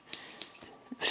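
Spring-loaded scissors on a Gerber or Nextool multitool snip several times in quick succession, producing soft close crisp clicks, quiet and with no talk.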